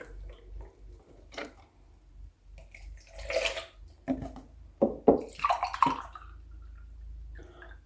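Milk pours into a pot for a cake cream, a quiet, uneven stream of liquid with soft gurgles and splashes that swell midway and then taper off, heard on its own.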